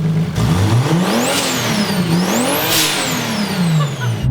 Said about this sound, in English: big single turbo, and it sounds amazing